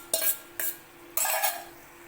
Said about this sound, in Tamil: இப்போ இதையும் நல்லா இந்த மசாலாவோட நல்லா கோட்டாகிற மாதிரி கலந்து விடுங்க